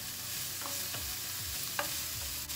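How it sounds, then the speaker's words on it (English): Fresh green beans, onions and other vegetables sizzling in bacon grease in a pan while being stirred: a steady close frying hiss with several soft scraping strokes of the spoon, and no voices. "We'll stir this around real good, get all the vegetables coated with the bacon grease."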